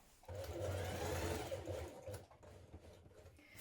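A sewing machine stitches a coat lining to the collar in one steady run of close, whirring motor hum that slows and stops, followed by faint handling noises.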